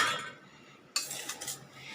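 A metal spoon scrapes and clinks in a pan as soya chunks are stirred into a spiced masala, producing a few close, bright scraping strokes with a short pause partway through.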